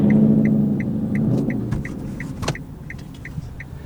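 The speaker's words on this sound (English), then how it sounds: "pull into the parking lot behind this loud ICE car" A loud combustion-engine car sits close by in a parking lot, its low, steady rumble and throbbing idle droning continuously beneath faint ticking, heard from behind while pulling in.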